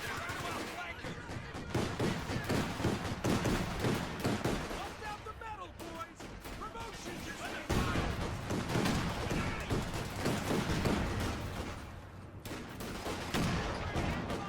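An anti-tank gun in the WWII strategy game Company of Heroes 2 firing amid a busy battle of rattling small arms, machine-gun bursts and booms, with a voice talking over the continuous noise.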